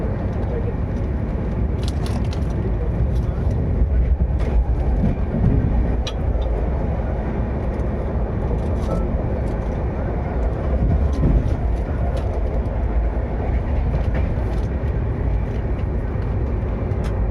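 Lucknow Double Decker Express running on its tracks, a steady loud rumble and rattle of rolling stock heard from inside, continuous throughout with faint background chatter.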